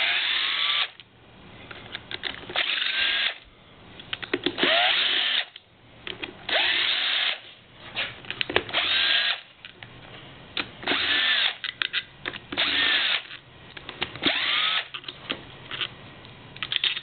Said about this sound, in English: You can drill the head right off it.